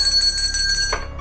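A bright bell rings with sustained metallic tones, a single short strike used as a sound effect, clear and close, fading out after about a second.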